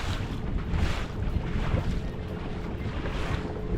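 Steady, rushing wind noise buffets the microphone aboard a 2022 Alumacraft 185 Competitor boat moving slowly into the wind, a continuous broadband roar with no voices.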